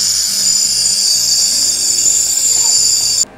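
An ultrasonic sonicator dispersing soot particles in water for ink gives off a loud, steady, piercing high-pitched whine with a low pulsing buzz beneath, running continuously before cutting off abruptly at the end.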